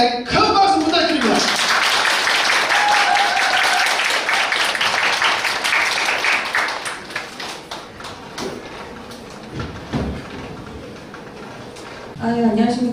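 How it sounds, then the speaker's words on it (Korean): Audience applause at a public talk show, loud sustained clapping that swells early, then thins into scattered claps before a voice starts to speak. "수호님들에게 큰 박수 부탁드립니다"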